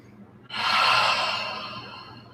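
A single long, breathy exhale during a rest pause in a hatha yoga flow, rising suddenly and loud then slowly fading, heard alone without talk.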